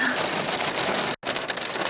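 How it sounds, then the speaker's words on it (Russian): A dense, loud wash of heavy rain drums continuously on a roof in Greece, briefly dropping out for an instant before resuming just as heavily. "Смотрите, какой дождь. Смотрите, как лупит по крыше."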